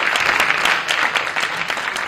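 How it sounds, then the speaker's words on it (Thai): Audience applause at a press conference for a Netflix series launch, loud sustained clapping from a room full of people, dense and even throughout. "ขอเสียงปรบมือกันอีกครั้งได้ไหมฮะ"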